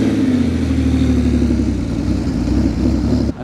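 An early Porsche 911 engine drones nearby at Sydney Motorsport Park, a steady, rumbling flat-six note holding at moderate revs, loud and continuous before cutting off abruptly at the end.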